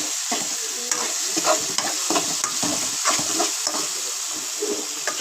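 Food being stirred and mixed in a sizzling pan, with repeated scraping strokes over a steady frying hiss, close and moderately loud with no talking.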